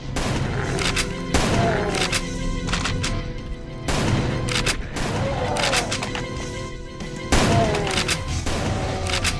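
Shotgun fire in a Doom mod video game, three heavy blasts about three seconds apart, each a loud broadband boom trailed by pump and reload clatter, with dense game noise throughout.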